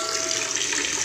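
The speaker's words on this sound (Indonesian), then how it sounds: "Ikan ini cuma memakai pancuran aja kawan-kawan." A water pump sprays a steady stream into an outdoor tarp goldfish pond stocked mostly with oranda, a continuous close splashing hiss with no talk.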